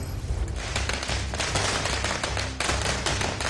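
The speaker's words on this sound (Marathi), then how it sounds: "मनसेच्या कार्यकर्त्यांकडून फटाके फोडत जल्लोष" Firecrackers burst at an outdoor street celebration by MNS party workers, a dense, continuous crackling barrage of sharp pops that never lets up, loud and close with no speech.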